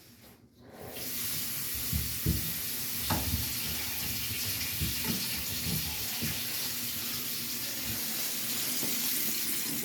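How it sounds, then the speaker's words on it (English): Water rushes steadily through the plumbing of a condo suite after the shut-off valves are reopened, a constant close hiss that starts suddenly and continues without a break. "What you want to do is you want to turn the valves back on."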